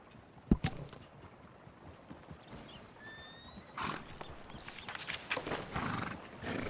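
Galloping horse in the open-world western game Red Dead Redemption 2: a sharp thud, then a neigh, followed by quickening hoofbeats that build into a steady gallop.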